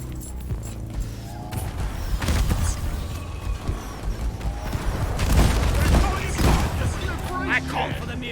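Video game firefight with bursts of gunfire and booms scattered across the clip, heavier volleys in the middle, mixed with lively talking voices over the action.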